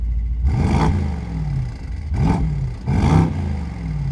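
A Mercedes twin-turbo 4-liter V8 idles with a deep rumble in Sport Plus mode, then revs sharply three times in quick bursts, each rising and falling back, loud and close.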